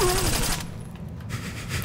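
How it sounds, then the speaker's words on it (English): Machine gun fire in Metal Gear Solid 3 comes in a loud, close burst of rapid shots at the start, drops briefly, then returns toward the end amid game sound. "you have the machine gun at the ready, I guess"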